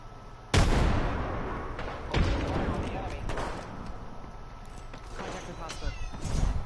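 A grenade explosion and gunfire in the Apex Legends video game (Season 5): a sharp, loud blast followed by another, with scattered shots and voices over the game's background noise.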